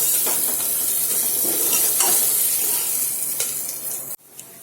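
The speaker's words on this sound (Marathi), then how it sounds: "आता हा मसाला व्यवस्थित आपण शिजून घेऊया" Masala of ginger and garlic sizzling in a pan for a dal and brinjal dish, a bright, steady frying hiss with occasional stirring clinks, fading near the end before a sudden drop.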